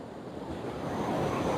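Ocean waves roll onto a white sand beach with high surf, a steady rushing wash that swells louder toward the end, mixed with wind buffeting the microphone and no voices.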